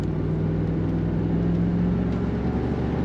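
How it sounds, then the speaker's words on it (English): A 1991 Chevrolet Camaro Z28 convertible with a V8 gives a low, steady engine rumble, close and continuous for a few seconds with no other sounds on top. "Just enough rumble to let you know there's a V8 under the hood that sounds good."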